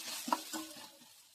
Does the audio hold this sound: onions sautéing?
yes